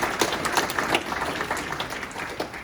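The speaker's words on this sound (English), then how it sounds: "if we could just take a moment to give them a round of applause" An audience claps steadily at a public library ribbon-cutting ceremony in Ellsworth, Wisconsin, a dense round of applause from a modest crowd that holds even for a few seconds.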